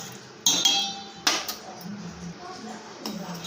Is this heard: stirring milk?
yes